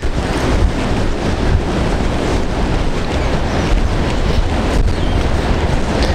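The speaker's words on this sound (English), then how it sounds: "it's really windy right now, so this will be actually a good test" Heavy wind buffeting a microphone outdoors, a constant loud roar with surf-like rushing throughout and no voices.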